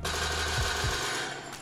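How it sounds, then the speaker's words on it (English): A gunshot sound effect from a tabletop role-playing soundboard, stacked up to eight times on itself, makes a loud, dense, rattling burst that decays briefly near the end. "if I hit the gunshot button"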